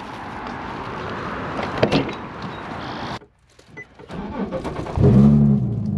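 A car door is handled beside the vehicle: a sharp mechanical click, a brief near-silent pause, then rustling and a louder thud with low rumble as it opens, all close and fairly loud.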